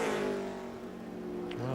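A NASCAR race car on a qualifying lap at the 2007 Circuit City 250 holds a loud, steady engine drone with stacked harmonic tones, easing slightly mid-lap before rising again as the revs climb near the end.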